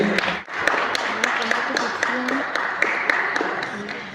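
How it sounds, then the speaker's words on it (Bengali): At a film trailer launch event, an audience claps in a sustained, moderately loud burst while voices talk over it. "জোরে হাততালি"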